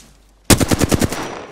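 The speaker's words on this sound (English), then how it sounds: "Getting shot at." Rapid burst of automatic gunfire in the video game Apex Legends, about eight sharp close shots in quick succession that fade into a short echoing tail after a moment of quiet.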